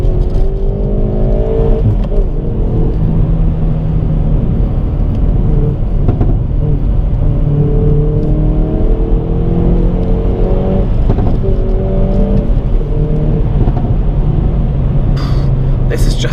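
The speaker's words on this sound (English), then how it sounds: "This is just so much fun to drive the car that fast." Hyundai i30 N Performance driven hard on a track, engine revving and rising through gears with loud, continuous in-cabin drone and whine, shifts and speed changes throughout.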